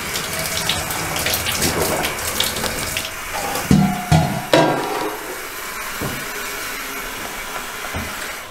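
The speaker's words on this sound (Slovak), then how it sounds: "Prvotnou horúcou vodou z chladenia možno umyť zašpinené súčiastky." Hot water from a home-brewing cooling setup runs into a sink to wash dirty brewing parts, a steady splashing flow with a few sharp knocks and clatters of parts partway through.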